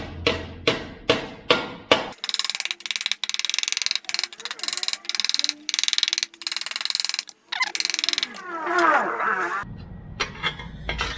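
A new car pan for an Austin Healey, clamped in a vise, is beaten with a hammer: a run of loud, sharp metallic blows, first spaced evenly and then in fast rattling bursts, close by and with no talk.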